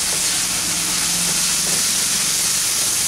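Chicken with chopped green chillies fries in a pan with a steady, loud, even sizzle that holds for the whole stretch without a break.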